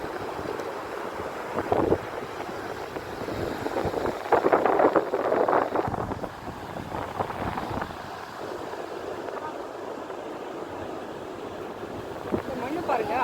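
Soft ocean waves wash gently onto a beach in a continuous surging roll with wind buffeting the microphone, swelling briefly louder, while someone talks over it.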